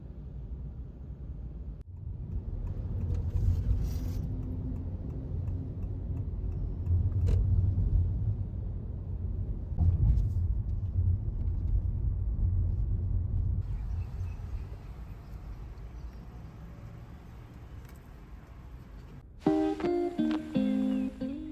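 A car idles and creeps through slow expressway traffic, a steady low rumble of engine and road noise heard from inside the cabin, ending with a brief burst of music.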